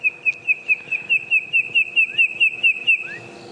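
A small bustard giving its display call on a dawn safari drive: a long series of sharp, rhythmic clicks at a steady pace, ending in rising whistles, close and clear with no talk.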